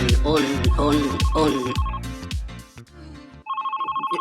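A telephone rings in an office setting, its electronic trill pulsing repeatedly near the end after a stretch of busy tonal sounds, loud and close.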